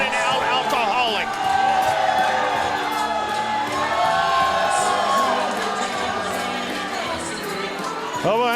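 Loud wrestling crowd cheering and whooping for Hobo Hank at a New Mexico pro wrestling event, a dense, sustained roar with shouts rising throughout and a commentator talking over it.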